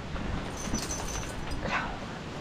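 A frightened dog whimpers softly during a thunderstorm, a few faint high whines rising over steady rain-like background noise.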